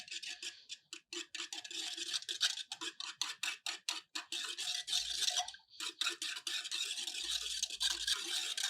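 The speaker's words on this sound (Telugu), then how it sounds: "దీన్ని కలిపేసి" A thick mixture in a bowl, thinned with a little water, is stirred with quick, rhythmic scraping strokes that repeat steadily, close and fairly soft.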